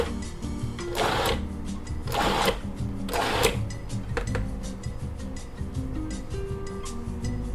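Food processor pulsing vegetables, cilantro and bread for soup, loud whirring bursts in short repeated pulses, close up, with clattering mechanical noise throughout.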